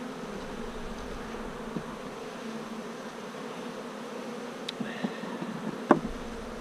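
Honey bees buzz steadily in an open hive of a weak colony, a constant near drone with a few faint clicks and taps toward the end, no speech.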